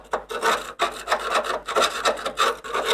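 Rough rasping abrasion on the rusted rocker panel of a Toyota Previa TCR11, worked in repeated close strokes with brief pauses between passes, loud and steady with no talk.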